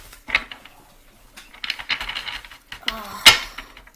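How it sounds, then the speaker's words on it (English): Tarot cards shuffled by hand, soft papery riffles and flicks in irregular bursts close by, with a sharper snap near the end and no speech. "So we're shuffling here."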